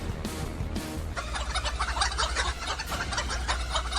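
Chickens cluck repeatedly in a comedic Zelda parody, a busy burst of close, choppy clucks and squawks following a brief lower passage, with no voices over them.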